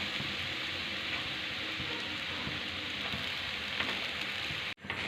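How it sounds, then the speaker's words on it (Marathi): Grated fresh coconut sautéing in ghee in a pan, a steady soft sizzle with faint scraping stirs, then a brief dropout near the end. "हा किस तुपामध्ये परतून घ्यायचा"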